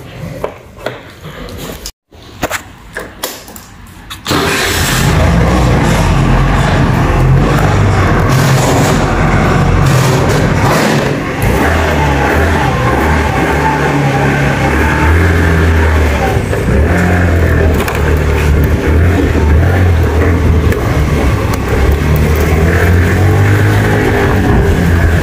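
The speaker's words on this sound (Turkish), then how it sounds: "Çıkartalım motoru, bir tur atalım beraber." A Bitter 50 motorcycle with a starter fault is started by hand, then ridden: a few knocks and sputters give way to a loud, steady engine drone that carries on throughout.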